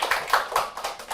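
A small group claps in a steady, quick rhythm at a Korean university transfer-admission talk session, with about five crisp claps close by and no one speaking.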